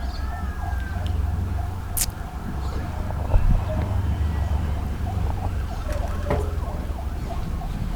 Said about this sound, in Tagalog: Dumaan na yung isang ambulansya.